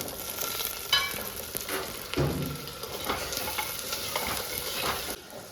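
Tomatoes steadily sizzling and frying in a pan with curry leaves, occasional stirring scrapes, close and continuous, no voices.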